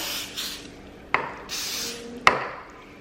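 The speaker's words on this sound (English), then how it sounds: "Spray your spatula." Two short hissing bursts of cooking spray onto a spatula, about a second apart, each with a sharp onset and a quick fade, close by and with no talking.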